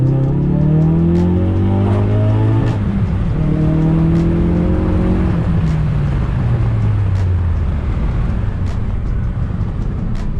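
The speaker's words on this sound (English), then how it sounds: "let's do like a half acceleration. Second gear, and go." Ford Focus RS in second gear under half throttle: the engine note climbs steadily in pitch through the pull, drops briefly at a shift, then rises again, loud and close, with no talk.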